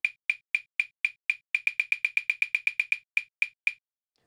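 PolyNome metronome ticking one bar of 25/16, sharp bright clicks in an uneven pattern of wider and tighter spacing, clear and isolated against silence.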